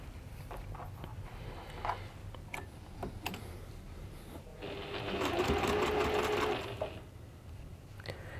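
A sewing machine stitches quilt blocks together with a quarter-inch seam, first giving scattered clicks and handling taps, then a steady whirring run of stitching for about two seconds that stops abruptly, heard up close.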